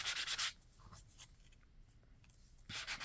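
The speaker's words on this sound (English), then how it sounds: "that definitely helps if you sand it down" Sanding a gesso-coated craft surface: two loud bursts of scratchy rubbing, one at the start and one at the end, with a quiet gap of faint handling between.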